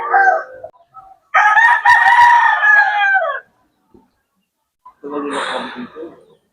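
A rooster kept as a fighting cock crows loudly and close by in one long harmonic call, with shorter clucks and a voice speaking briefly before and after.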